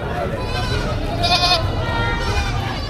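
Goats at a livestock market give short bleats amid the steady murmur of people talking and haggling nearby, one bleat standing out clearly in the middle.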